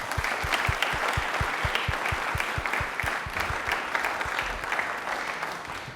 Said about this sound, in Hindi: एक बार जोरदार ताली हो जाए दीपेन के लिए प्लीज।